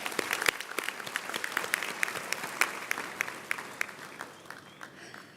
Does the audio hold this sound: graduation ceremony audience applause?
yes